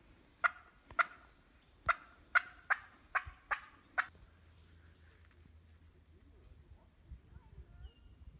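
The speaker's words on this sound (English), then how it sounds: "Oh, you hear the chicken back there?" A chicken calls in the background outdoors, giving a run of about eight sharp, evenly spaced clucking calls, then falls quiet while low ambient noise continues.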